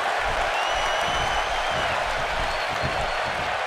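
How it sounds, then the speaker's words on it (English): A large Tokyo wrestling crowd in a WWE 2K18 video game roars and applauds continuously, a dense wall of cheering heard from within the arena. "just listen to this Tokyo crowd"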